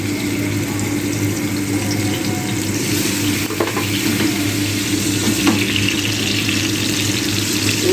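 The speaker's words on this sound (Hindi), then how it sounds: "अब इसको हमने हल्का सा फ्राई करना है, थोड़ा सा कलर देने के लिए।" Marinated chicken frying in a few tablespoons of oil in a pan for a chicken mandi dish gives a steady, close sizzle throughout, with faint clinks and a watery hiss layered underneath.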